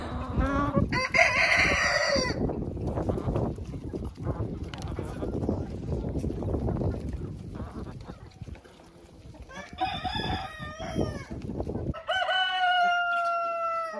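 Backyard hens being fed bread cluck busily while a rooster crows loudly several times, with short bursts at the start and toward the end over a continuous scratchy yard background.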